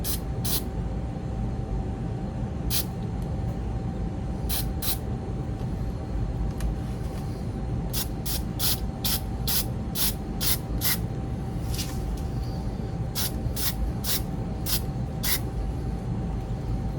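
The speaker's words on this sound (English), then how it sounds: "a little bit of spray paint in the eye sockets and the underneath for like where the shadows are" A spray paint can fires short hissing bursts onto a Halloween skull, several separate sprays followed by a quick rhythmic series of taps, close and clear over a steady hum.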